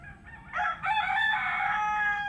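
A rooster crows once, fairly close and clear. The call rises into a long, strained, wavering cock-a-doodle-doo over a low, quiet background murmur.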